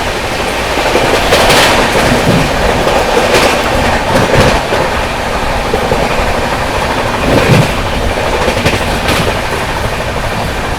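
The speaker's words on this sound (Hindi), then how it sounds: "क्या गजब की रफ्तार में अपनी दुरंतो एक्सप्रेस ने स्किप किया है भाई, गजब की रफ्तार में।" Duronto Express passenger train, the Nizamuddin–Pune AC service, running at high speed past Sawai Madhopur Junction, with a steady loud roar and repeated clickety-clack of wheels over rail joints throughout.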